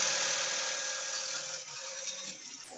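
A long-arm quilting machine running at speed setting 11, a steady mid-level motor hum that continues throughout without pause.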